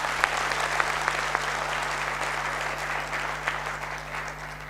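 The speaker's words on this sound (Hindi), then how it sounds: "जबरदस्त ताली।" Sustained audience applause at a business seminar, a dense steady wash of clapping hands with a few sharper claps standing out, continuous and fairly loud over a low electrical hum.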